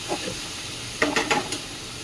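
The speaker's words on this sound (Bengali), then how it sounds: "এখন কুমড়ো শাকগুলো দিয়ে দিচ্ছি" Pumpkin greens tossed into a pan of hot spice paste give a few brief bursts of sizzling and hiss, short and moderately loud against a quiet kitchen background.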